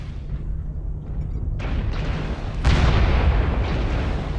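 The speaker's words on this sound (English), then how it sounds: "Airstrike out, watch out." Airstrike explosions in a mech combat video game, heavy booming blasts rolling into a sustained loud rumble with a sharp burst midway, close and dominant with no speech over it.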